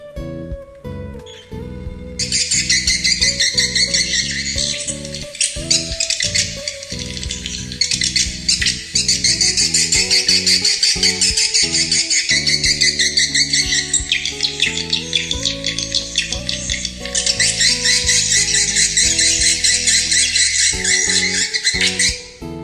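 Swiftlet calls from a Nestamp A4 bird-caller through piezo speakers: a loud, continuous, dense stream of sharp, high chirps and twittering clicks over low tonal notes, steady for about twenty seconds without talk.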